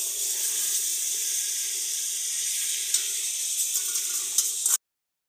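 Spice-rinse water pours into a pan of chilli, cumin, ginger and garlic paste for a pangas fish curry, giving a steady rushing hiss with a faint sizzle that cuts off abruptly near the end.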